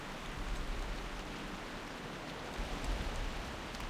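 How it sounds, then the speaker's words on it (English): Steady rain falling in the World of Warcraft game world at Stormstout Brewery, a dense even hiss with soft swells and no voices. "Nice bit of rain."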